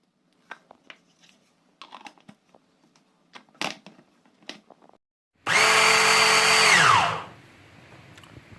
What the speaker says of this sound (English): we're going to grind our egusi